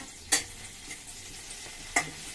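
Whole uncut chillies fry in a pan for cabbage roti pachadi, giving a faint, steady sizzling hiss broken by two sharp, close pops about a second and a half apart, with no voices.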